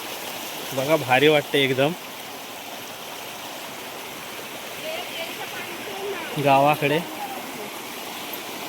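A small countryside stream flows with a steady, even rushing babble. Someone talks briefly twice over the continuous water.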